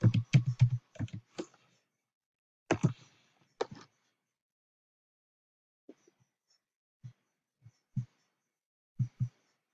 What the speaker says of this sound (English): I'm going to type in birthday